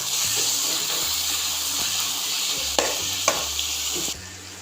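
Tomatoes stirred into frying biryani masala for a beef dum biryani, a steady close sizzle with a few sharp spoon scrapes against the pan before the sound drops away at the end.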